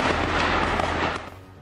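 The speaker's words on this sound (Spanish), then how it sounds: "la Serpiente de Fuego tiene una cadencia cíclica de 850 disparos por minuto" Burst of FX-05 rifle fire, a loud sustained volley of rapid shots with a cyclic rate of 850 rounds per minute, close and dense before trailing off near the end.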